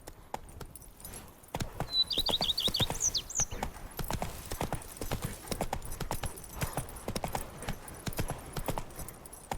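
A horse gallops in The Witcher 3 with rapid, steady clip-clop hoofbeats throughout, a brief whinny early on and moderate loudness, with no voices.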